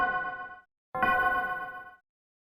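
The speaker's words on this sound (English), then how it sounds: "which sounds like a clock bell tower" Two clear, resonant bell-tower chimes ring out from a video game's level intro music, each strike decaying smoothly with a short pause between them, loud and alone without talk.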